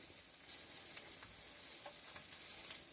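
Bread for chicken bruschetta toasting in a hot pan, giving a steady close sizzle and crackle of frying with a few faint scrapes and taps throughout, no voices.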